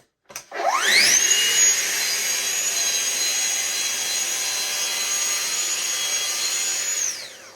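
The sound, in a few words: Festool track saw cutting wood along guide rail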